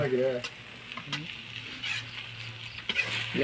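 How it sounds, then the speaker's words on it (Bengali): Potatoes fry in a hot pan for noodles, giving a close, steady sizzle broken by a few scraping stirs, with a voice speaking briefly at the start. "কড়া করি ভাজা লাগবে, কড়া করি ভাজা।"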